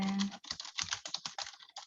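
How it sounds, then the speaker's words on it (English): Rapid keystrokes on a computer keyboard tap out an uneven, clattering rhythm up close, with brief pauses between bursts of typing. "I need to mute while I'm typing"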